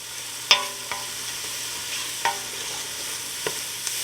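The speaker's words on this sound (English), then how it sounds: "I've had everything sauteing for 5 minutes" Onions and carrots sauté in a soup pot with a soft steady sizzle, broken by a few sharp spoon taps and clinks against the pot, close and clear with no talking.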